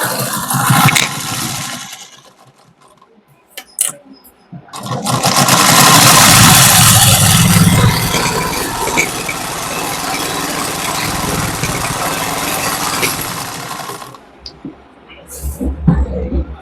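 A saree fall zigzag stitching machine starts up and runs with a loud, steady motor hum for roughly nine seconds before stopping, with quieter handling sounds before and after.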